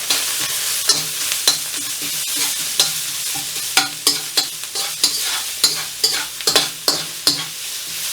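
Onions sizzle in a little avocado oil in a pan for shrimp fried rice, with repeated sharp scraping stirs and flips punctuating a steady fry hiss, close and fairly loud, no talking.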